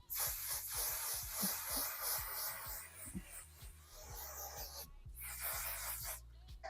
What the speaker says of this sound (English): Going to set our face with the One Size Beauty setting spray